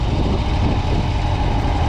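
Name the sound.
car engine running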